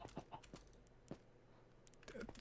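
Minecraft chickens cluck in short, scattered bursts, faint and intermittent over quiet game background, with a few clucks bunched together near the end.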